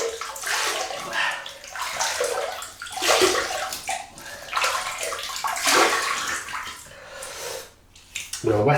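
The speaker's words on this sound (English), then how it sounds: "So we'll just wet the face." Water splashing and sloshing in bursts as a man wets his face at a sink before a double-edged razor shave, close and fairly loud, with short pauses between handfuls.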